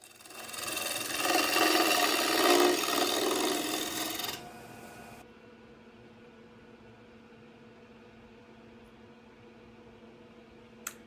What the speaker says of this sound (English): Now I'm shear scraping the surface to make it smooth.